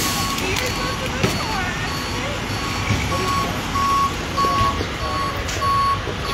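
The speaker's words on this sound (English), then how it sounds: "tow truck's already moving in." Repeated electronic reversing beeps from a tow truck at a car accident scene, steady and evenly spaced, over street noise and distant crowd chatter.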